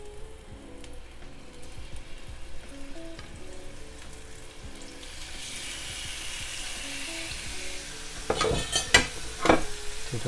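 Chicken tikka frying in hot oil in a pan, a steady busy sizzle that grows brighter and louder partway through, with a few sharper spits and crackles near the end.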